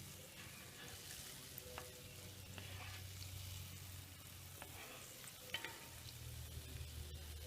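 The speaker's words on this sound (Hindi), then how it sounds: "अब हम इनको धीमी आंच पर ही सेकेंगे।" Gulab jamun fry slowly over low heat in deep ghee, a faint continuous sizzle with occasional soft clicks as they are turned, no talking.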